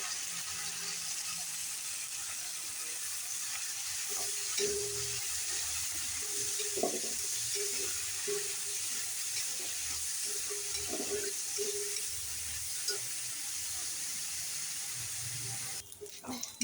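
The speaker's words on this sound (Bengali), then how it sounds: "পেঁয়াজ মরিচ লাল হয়ে গেছে, এখন চিংড়ি মাছ দিয়ে দিব।" Shrimp frying in a pan with reddened onion and chili, a soft continuous sizzle with occasional stirring scrapes and clinks, fairly quiet and without speech.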